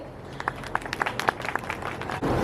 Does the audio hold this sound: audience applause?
yes